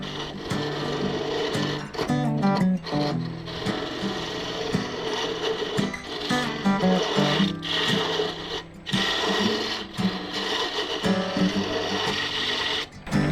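A small finger chisel being sharpened gives a loud, steady mechanical whirring with a rhythmic scraping grind. It runs almost without a break for about thirteen seconds, with a few short dips.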